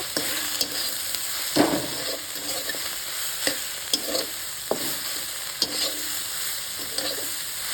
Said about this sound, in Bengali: একদম ভালো করে ভাজতে হবে।